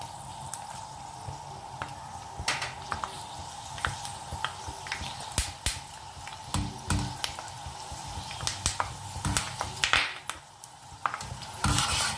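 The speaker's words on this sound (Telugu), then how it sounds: "ఇప్పుడు మనం మజ్జిగలో వేసిన బెండకాయలు డీప్ ఫ్రై చేసుకుందాం" Buttermilk-soaked okra deep frying in hot oil, with a steady close sizzle and frequent sharp crackles and pops that grow busier toward the end.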